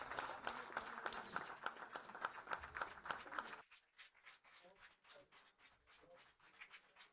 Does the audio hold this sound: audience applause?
yes